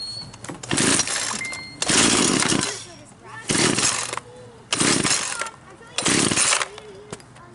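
A chainsaw is pull-started by its starter cord five times in a row, each a loud rasping whir of about half a second to a second, separated by short pauses, close by and with no talk over it.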